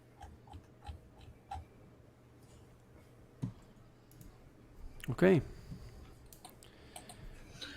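Computer keys pressed in scattered, quick clicks during a gaming show, fairly faint and close, with a brief louder burst midway and a voice speaking briefly.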